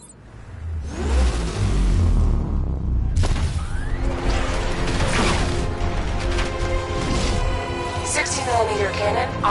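An unmanned tank in Batman: Arkham Knight rumbles and revs into motion, a loud mechanical engine swell rising after a short lull, with creaking and clanking machinery and game voices speaking over it.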